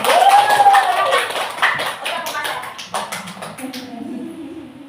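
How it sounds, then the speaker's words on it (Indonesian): Classroom group clapping during a teacher's positive-discipline session, a burst of rhythmic claps at moderate level with voices talking over and after it. "Tepuk tangan untuk kita semua."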